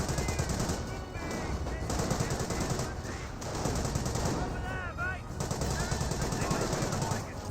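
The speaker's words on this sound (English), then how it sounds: "And a lot of extra rifles firing." Rifles and automatic weapons firing in a Company of Heroes battle, dense rapid bursts of gunfire rattling almost continuously, loud and close, with brief lulls and a voice talking over the shooting.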